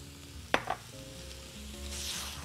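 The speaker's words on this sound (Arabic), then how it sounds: "هقلب الزبده مع البطاطا مع السكر" Butter, sweet potatoes and sugar are stirred together in a hot pan, giving a soft steady sizzle with one sharp utensil knock early on, close and alone without talk.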